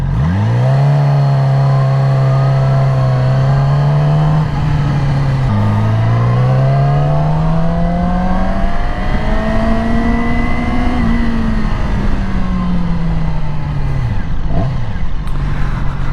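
A Yamaha R6 sport motorcycle's engine whines loudly and close while riding on the road. Its pitch climbs through the gears with a gearshift dip midway, then eases off toward the end over steady wind rush.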